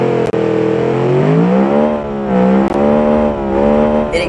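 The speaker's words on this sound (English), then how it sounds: "It accelerates quite fast for a rear-wheel drive car." A V8 rear-wheel-drive car accelerates hard in BeamNG.drive, its loud engine note climbing through gears with short dips at each shift, close and continuous.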